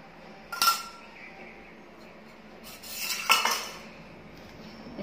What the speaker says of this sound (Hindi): इसको अच्छे से मिला लेती हूँ मैं इसमें, मैदा को आटे में घी में